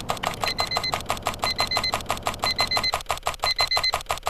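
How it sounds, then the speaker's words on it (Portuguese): Many keys are struck hard in rapid, regular strokes while a thin electronic beep repeats in pairs at steady intervals behind them. "ouviu um som de várias teclas, sendo pressionadas ao mesmo tempo, sendo batidas com força, e um bip-bip intermitente e interminável ao fundo"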